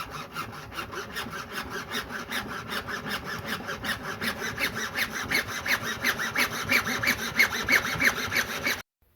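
A hand saw cuts horizontally through a sump pump discharge pipe, with steady rhythmic back-and-forth rasping strokes that grow slightly louder before stopping abruptly.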